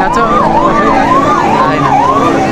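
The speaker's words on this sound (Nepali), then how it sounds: "अब यताबाट आगो दमकल आउँदैछ" A fire engine siren responds to a large fire in Butwal, Tillotama municipality, wailing loud and close with a steady rising and falling cycle that repeats four to five times.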